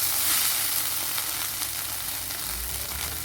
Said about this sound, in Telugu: ఇప్పుడు మనము నూనె వేసుకొని మరలా రొయ్య పొట్టుని కూడా వేయించుకుందాము.